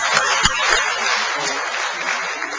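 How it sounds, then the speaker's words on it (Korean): A church congregation applauds in thanks at the close of a worship service held for a pastor's installation, a steady, even wash of clapping with a few sharper knocks near the start. "우리 하나님께 감사의 박수 하시겠습니다."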